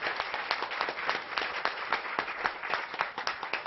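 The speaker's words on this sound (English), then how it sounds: "can we please give our panelists a fabulous round of applause?" Steady applause from an audience for a panel, many hands clapping continuously throughout at moderate volume.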